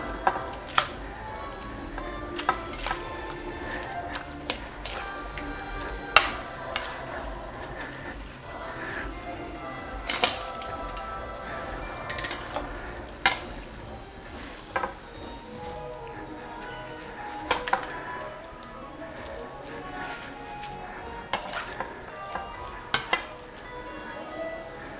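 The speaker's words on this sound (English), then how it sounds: "I'm going to mix my rice" A spoon clinks and scrapes in a pot while rice is mixed with eggplant and pepper sauce for Persian tahchin, with scattered sharp metallic taps over a soft, steady background.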